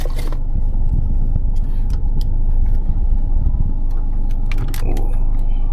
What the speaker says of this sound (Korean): 이게 디젤 디젤 차여가지고 소리가 엄청나요